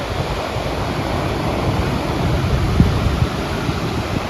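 Ocean waves at Shelley Beach on the Central Coast produce a continuous broad wash of surf mixed with wind rumble, fairly loud and steady with a few soft surges and no voices.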